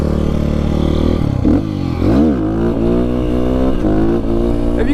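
A GPX motorcycle revs hard through a wheelie on a rainy day, its engine loud and close, the pitch climbing, dipping and surging again in continuous sweeps.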